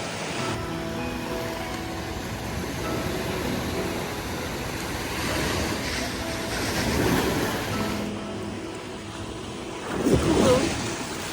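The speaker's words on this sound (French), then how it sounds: "là on est à la plage au Japon" Ocean waves washing onto a beach in Japan, a steady roar of surf with gentle swells and wind buffeting the microphone, one wave breaking a little louder near the end.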